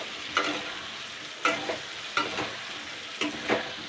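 Pointed gourd frying with onion and tomato in a pan, a constant sizzle broken by several distinct scraping stirs at irregular intervals, close and moderately loud with no voices.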